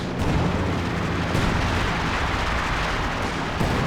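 An artillery and ISG barrage in the video game Company of Heroes 2, with a continuous heavy rumble of distant booms and blasts layered into a dense, steady wall of noise.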